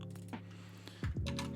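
Computer keyboard typing while renaming image-editing layers, a short burst of quick keystrokes with steady background hum.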